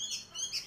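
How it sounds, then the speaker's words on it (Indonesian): A one-month-old sooty-headed bulbul chick gives a brief, faint, high twittering call, soft and close. "Burungnya belajar bernyanyi tuh."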